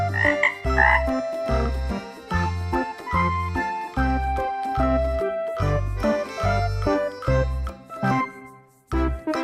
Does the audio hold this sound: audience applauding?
no